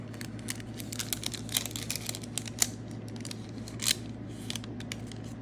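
A parchment envelope being opened and handled, with faint crinkles, soft paper rustles and a few crisp ticks over a low steady hum.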